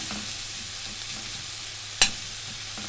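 Shrimp with a squeeze of lemon frying in a pan, a steady hissing sizzle heard up close, broken by one sharp utensil knock.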